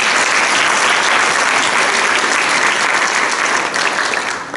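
A lecture audience claps for a developmental psychology professor's talk, sustained full applause from many people at close range, loud and continuous, easing slightly near the end.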